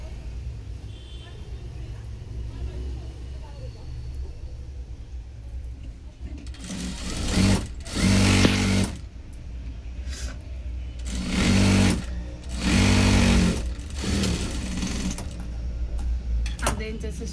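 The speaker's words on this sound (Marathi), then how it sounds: "आता आपण आतल्या साईडने 1/2 इंचाचं स्टिच करून घेणार आहे." A sewing machine stitches a half-inch inner seam on a four-tuck blouse, running in several short bursts of rapid rhythmic whirring separated by pauses, with faint background sounds between runs.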